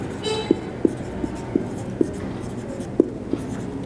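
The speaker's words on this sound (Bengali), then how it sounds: "আমি লিখে দিই" Pen or chalk writing by hand during a chemistry lecture, with a series of sharp, regularly spaced taps and scratches at close range over a quiet room hum. No one speaks.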